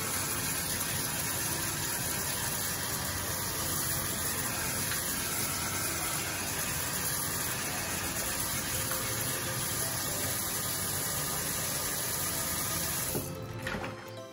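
Water runs steadily into a tray of mussels being rinsed, a constant close rushing wash that holds for most of the stretch before cutting off near the end.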